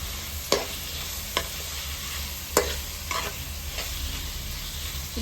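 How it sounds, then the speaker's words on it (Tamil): Tomatoes sautéing in a pan for a pumpkin nati chicken curry give a steady low sizzle, with a few sharp spoon-against-pan scrapes and taps now and then. No voices are heard. "இப்போ இது ஒரு 5 மினிட்ஸ் நல்லா ஒரு கொஞ்சம் இந்த வதங்கி வரட்டும்."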